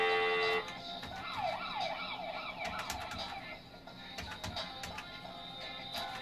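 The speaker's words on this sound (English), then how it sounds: "There's the sirens." A wailing siren sweeps up and down in the middle distance over background street noise and clatter, a police or emergency vehicle passing by.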